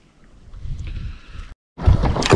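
A kayak is paddled on windy open water: soft swishing strokes and water noise with wind buffeting, cutting out briefly before a louder gust of splashing and wind.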